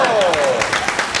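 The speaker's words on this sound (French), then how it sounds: "La foule en délire t'applaudit" A crowd applauding wildly, a short dense burst of many hands clapping at once, loud and close, with a voice talking over it.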